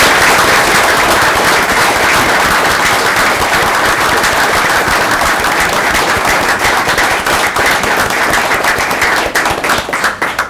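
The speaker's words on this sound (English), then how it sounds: "if you would please join me in honoring Mark with a round of applause." Applause from the audience at a city council meeting, dense and loud clapping from many hands that holds steady, then thins into scattered claps toward the end.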